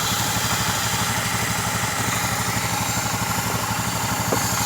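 A Honda Beat scooter engine idling without throttle, a loud, close, steady low chugging pulse running evenly throughout over broadband mechanical noise.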